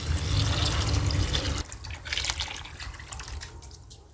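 Cool water pouring into a container of soaking wheat grains, a steady filling rush that breaks off partway, followed by softer trickles and splashes close by.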